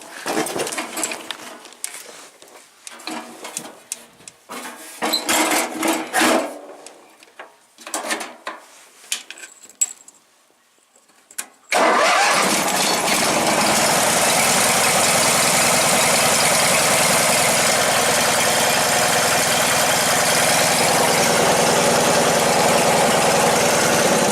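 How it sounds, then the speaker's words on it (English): Briggs & Stratton engine on a Wheel Horse Workhorse riding mower with a 48-inch deck, cold-started after a week unused: a few scattered clatters and cranking attempts, then a steady, loud, close idle drone that runs without a break. "this is a cold start. This motor has not fired in almost a week or so."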